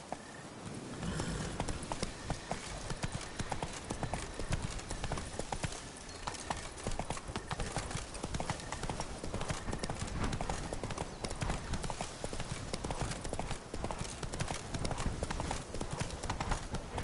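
Horse hooves clip-clop in a steady rhythmic trot across ground in The Witcher game, dense and continuous throughout with faint voices now and then underneath.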